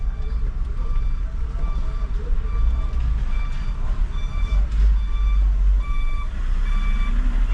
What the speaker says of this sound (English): There is a lorry backing up here.